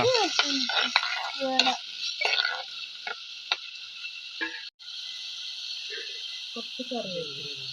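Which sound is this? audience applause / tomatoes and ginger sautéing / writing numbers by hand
tomatoes and ginger sautéing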